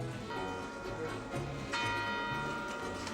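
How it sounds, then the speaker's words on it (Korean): Noon bells ring from the clock tower in front of the Church of Our Lady in a German city, sustained tones layered under a busy crowd murmur and a faint mechanical ticking. "특수장치로 만든 인형들이 종소리와 함께 움직이는데요"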